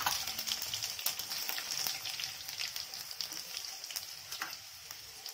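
Garlic added to hot oil already holding red chili, bay leaf and cumin sizzles and crackles steadily on a low flame, a close, continuous frying hiss with faint stirring.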